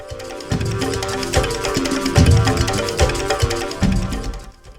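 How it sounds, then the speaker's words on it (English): Dense, full-sounding Sonic Heroes game music with steady pounding low drum hits on both sides driving a rhythmic, tribal feel, loud and continuous throughout. "You can hear it on both sides, the drums."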